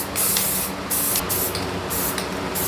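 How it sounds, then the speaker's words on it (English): Black spray paint hisses from an aerosol can onto a paper mask held over the yellow parts of a soapbox car, in several loud bursts with brief pauses between them. "I'm gonna hold it over the yellow parts and then I'll spray black and hope for the best"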